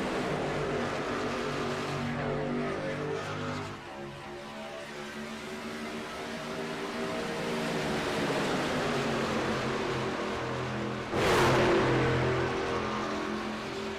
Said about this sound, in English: Up through the gears and up to speed as we spill these trucks onto the Daytona super stretch out of turn number 2